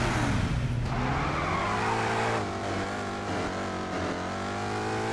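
A car driven in Lego City Undercover, its engine holding a steady loud drone with rising revs and tyre squeal, continuous throughout with no talking.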